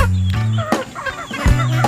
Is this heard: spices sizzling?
no